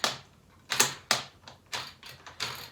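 Buzz Lightyear action figure with a partly broken button, pressed repeatedly so its small plastic ammo mechanism clicks and whirs in short, quiet bursts close by.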